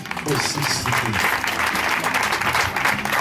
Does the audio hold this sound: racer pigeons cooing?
no